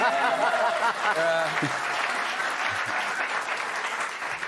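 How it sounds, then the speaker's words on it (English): Studio audience applause on a television news talk program, a steady mass of clapping that starts loud and slowly eases, with a voice talking and light chuckles mixed in early on. "You can applaud if you like."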